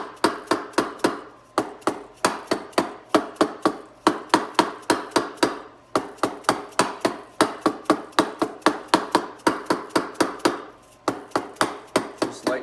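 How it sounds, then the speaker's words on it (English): A small 1 pound dead blow hammer lightly taps a transmission pump into place during a 4L60E rebuild, sharp close strikes in quick bursts of several blows separated by short pauses. "I'm going to take my small little 1 pound dead blow and just lightly tap it down until it seats."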